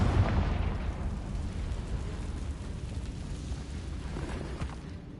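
A blast from the Confringo fire spell in the wizarding video game Hogwarts Legacy, a loud rumbling explosion at the start that dies away into a long, dense roar.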